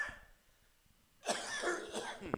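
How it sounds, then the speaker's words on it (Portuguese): After a quiet pause, a person coughs several times in a close, harsh burst, followed by a couple of smaller coughs. "Eu estou tossindo."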